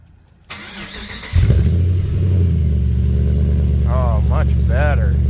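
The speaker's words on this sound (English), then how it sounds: "That's how a Hemi should sound." Hemi engine with a new Flowmaster exhaust cranks, fires and settles into a loud deep rumbling idle, close by, while voices speak over it.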